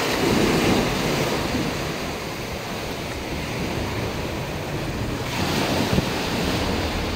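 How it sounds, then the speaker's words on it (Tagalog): Sea waves crash and wash steadily onto the shore, a continuous broad roar with surges near the start and again toward the end, with wind buffeting the microphone throughout. "Wala kang marinig kundi yung hampas ng alon sa dagat."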